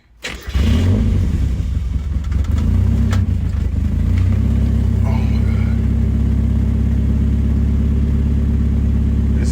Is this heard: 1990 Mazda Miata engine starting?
yes